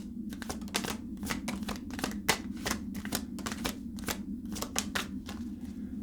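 A tarot deck is shuffled in a long run of crisp, rapid riffles and card flicks, close and moderately soft, with brief pauses between bursts and no talking.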